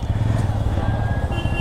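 A Yamaha motorcycle's engine rumbles low and steady at close range as the bike rides off, its throbbing idle rising slightly in a continuous drone for under two seconds.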